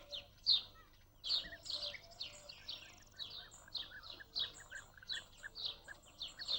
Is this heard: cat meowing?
no